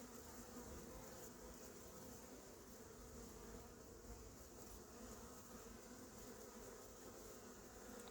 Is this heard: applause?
no